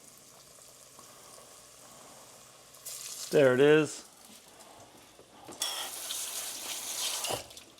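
Fish fillets sizzle in hot oil in a stovetop pan for fish tacos, a steady close frying hiss that swells after a brief spoken remark, with a burst of running water at the end.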